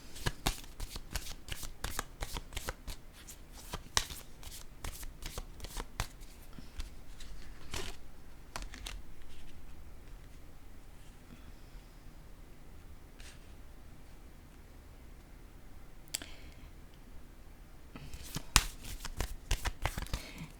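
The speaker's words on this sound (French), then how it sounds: "Je vais piger une carte." Playing cards are shuffled with a fast run of crisp riffles and snaps, then a card is drawn after a quieter pause, with another burst of shuffling near the end, all close and fairly soft.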